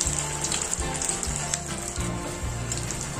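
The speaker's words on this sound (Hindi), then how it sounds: "ये मैंने तेल पहले से गर्म करके रखा है और गैस को रखेंगे लो टू मीडियम पे" Potato and cheese doughnuts fry in hot oil on a low-to-medium flame, giving a steady, loud crackling sizzle with small pops throughout and no voices.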